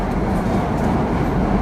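Steady, loud low rumble of a subway train in an underground station on a rainy day, a continuous roar with no talk.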